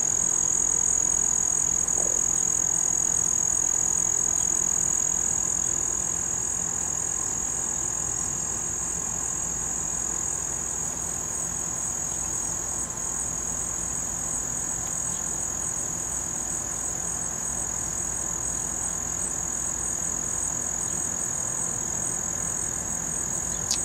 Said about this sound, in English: The last cicada.